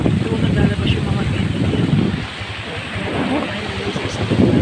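Rain and gusting wind roar around a moving ride on a dim, wet street, a dense rushing wash with low rumbling, steady throughout and fairly loud.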